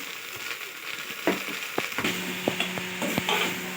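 Large tomato pieces sizzle in a pan of ladyfinger dal as a spoon stirs them, a steady frying hiss broken by scraping clinks and light knocks, with no voices.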